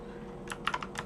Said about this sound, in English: now I have to get back to typing.